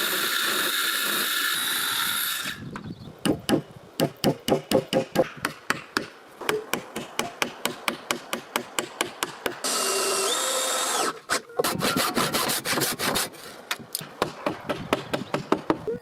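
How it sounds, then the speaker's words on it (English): A wooden log corner is shaped with hand tools while building a forest cabin wall, with rapid series of sharp close chopping and tapping strikes in bursts, separated by stretches of steady broadband noise. "He carefully shapes the corner of the wood, ensuring the next log will sit perfectly in place"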